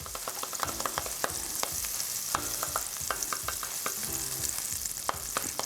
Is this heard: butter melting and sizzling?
yes